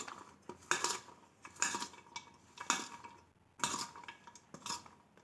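A spoon stirring fresh turmeric pieces in a metal bowl, repeated scraping and clinking strokes in an uneven rhythm, quiet and close, with no voices.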